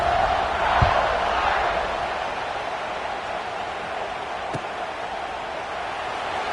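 Steady roar of a football stadium crowd during a kickoff, broad and continuous with a faint swell near the start and no clear voice standing out.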